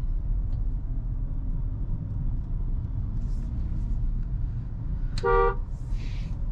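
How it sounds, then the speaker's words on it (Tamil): A short, mild car horn toot from a 2025 Nissan Magnite Tekna Plus turbo CVT sounds once near the end over a steady low engine rumble, with no talking. "ஹார்ன் பார்த்தீங்கன்னா ஒரு மைல்ட் டோனில் தான் இருக்குது"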